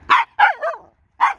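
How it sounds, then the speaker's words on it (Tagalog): A dog barks close by: two quick sharp barks, a short whining yip, then another bark after a pause, loud and clear against a quiet background. "May aso po."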